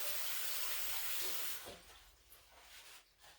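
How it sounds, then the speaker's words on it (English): Tap water runs into a sink to rinse sticky, dough-covered fingers during sourdough starter prep, a steady close hiss for about a second and a half before cutting off to quiet room tone. "I'm going to rinse my fingers because I'm all gooey"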